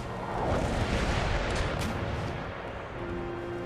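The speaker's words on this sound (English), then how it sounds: "Fire chain shot. See if you can take out our last mast." Ship cannons firing chain shot at an enemy mast during a naval battle in Empire: Total War, a dense, continuous rumble of booming broadside fire that stays loud throughout with no speech.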